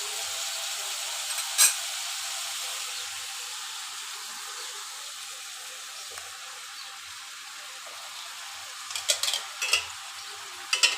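Spiced snake gourd sizzling in a frying pan while being stirred, a steady loud hiss of frying with a few scraping, clinking strokes of the spoon against the pan.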